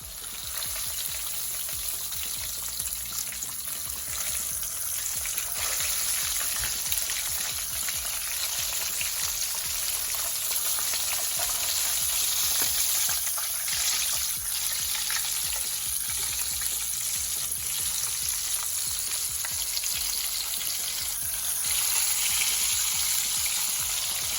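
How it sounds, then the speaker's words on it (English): Potato fries and catfish fry in hot grease with a loud, dense, unbroken crackling sizzle that holds steady throughout, close and with no talking. "now we're going to get ready to put them in the grease"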